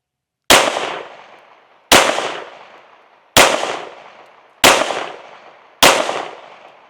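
Five loud, sharp pistol shots from a Springfield Armory Echelon 4.0C compact firing Barnes defensive ammunition at an outdoor range, evenly spaced about a second and a half apart, each with a short decaying echo.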